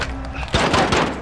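Gunfire in the video game Warzone, a short burst of several sharp shots at close range after a brief quiet moment.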